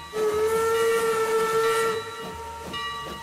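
A steam train whistle in the Transport Fever 2 video game gives one long, loud, steady hooting blast with hiss, then fades to softer steam and rail sounds.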